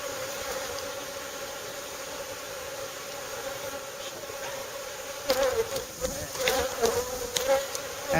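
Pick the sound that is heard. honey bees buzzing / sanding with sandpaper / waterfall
honey bees buzzing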